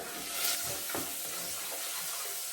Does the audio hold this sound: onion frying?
yes